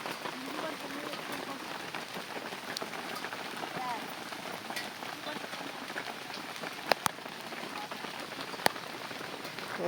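Light rain drizzle falling on a surface at an outdoor mango orchard campsite, a steady soft patter filling the background with a few sharp drip ticks.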